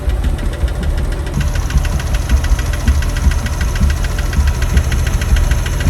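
A damaged Porsche 911 engine runs with a continuous rough knocking rhythm of rapid, regular mechanical ticks over a low idle rumble, loud and close, with no voices.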